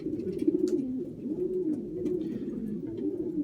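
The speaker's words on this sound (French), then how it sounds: "Là-bas, c'est un pigeon de Barthenons van Haukel Foirutz." A racing pigeon coos in a loft, giving a close, steady run of soft, rolling coos that repeat every second or so with no talk over them.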